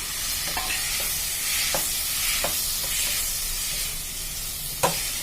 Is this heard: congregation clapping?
no